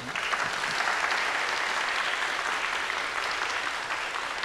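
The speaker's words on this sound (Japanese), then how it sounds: "もう拍手って感じですけれども" Audience applause at a talk session for an award-winning manga documentary program, a steady even wash of many hands clapping at moderate distance, with no voices over it.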